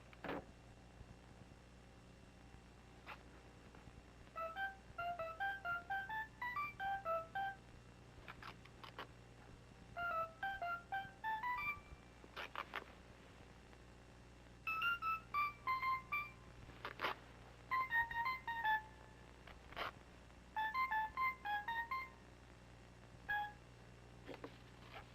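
A telephone is dialed for a long-distance call, with repeated bursts of tone beeps in clustered sequences over a steady low hum and quiet background, no talking.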